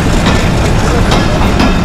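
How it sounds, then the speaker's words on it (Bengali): A local train passes close by, a loud, dense wash of rolling wheels and rail noise with faint rhythmic clatter, filling the whole stretch with no pause. "ও বাবা, ট্রেন ভাইয়া যাচ্ছে, এই প্রথম এখানে ট্রেন ভাইয়ার সাথে দেখা।"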